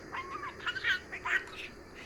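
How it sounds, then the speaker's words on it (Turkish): A small pet bird gives a few quick, bright chirps and short warbling tweets close by, over quiet background noise. "Güzel kuş. Tatlı kuş."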